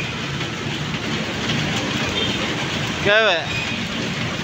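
Heavy rain pours in a steady broadband hiss throughout, with a voice speaking briefly near the end over the downpour.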